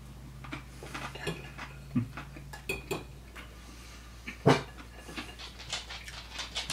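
A dog licks a dinner plate clean on a floor, with wet lapping, panting and light clinks of the plate knocking about, close and intermittent.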